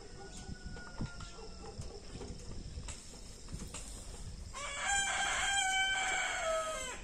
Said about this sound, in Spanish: Ese gallo tiene el reloj descontrolado, por eso canta todo el día.